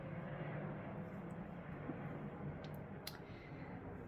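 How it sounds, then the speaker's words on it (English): Airplane passing overhead near an RAF base, a faint distant rumbling drone that holds steady in the background of an indoor room, with a few light clicks and no speech. "if you can hear the plane in the background"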